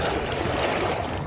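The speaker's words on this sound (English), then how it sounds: "the waves are pounding upon the shore much further in, almost wetting my shoes." Waves pounding on a shore as the tide comes in, a close, steady wash of surf and rushing water that fills the whole moment without pause or voices.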